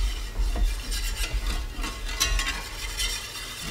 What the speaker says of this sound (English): So we'll stir this up for a minute.